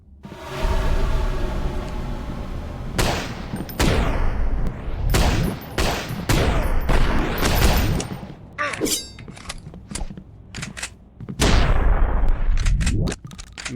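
Pistol shots ring out in the indie survival horror game Deathbloom, set in a creepy manor: a rapid string of loud, sharp cracks, each followed by a brief decaying tail, firing in irregular bursts with short pauses between.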